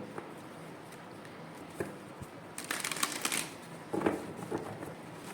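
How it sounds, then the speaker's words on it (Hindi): Oracle cards being shuffled and drawn by hand, with a soft riffling flutter in short bursts over a quiet room hum, close and fairly faint. "और ओरेकल कार्ड निकालते हैं आपके लिए"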